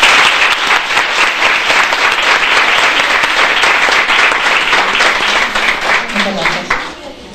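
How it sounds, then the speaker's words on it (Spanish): An audience at an anniversary event in Onil breaks into loud, dense applause. The clapping holds steady for several seconds, then thins out and fades at the end. "Un aplauso para ella, por favor."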